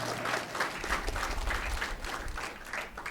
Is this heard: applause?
yes